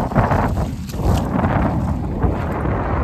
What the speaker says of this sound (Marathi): आणि मस्त वारा पण आलाय